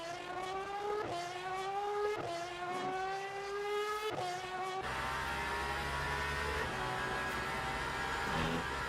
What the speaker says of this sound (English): The Razor Valkyrie sound is so nice.